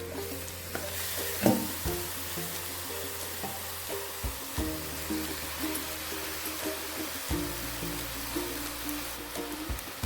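Close, steady sizzling of about one and a half kilos of washed chicken pieces stirred into masala paste for a coconut chicken curry, with repeated scraping stirs in the pan and no talking.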